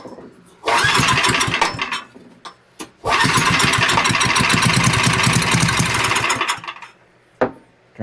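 An old Powermate generator engine is pulled over, catches and runs in two loud bursts, sputtering between them, then dies away to quiet with a final pop.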